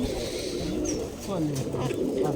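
Giribaz pigeons kept in a disused courtyard coo in low, repeated rolling phrases close by, while a person talks faintly in the background.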